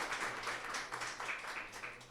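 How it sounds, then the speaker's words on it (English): Audience applause at a civics lecture on dissent and the justice system, a steady wash of many hands clapping that fills the room evenly and carries on without pause. "Can we just give him a round of applause for that?"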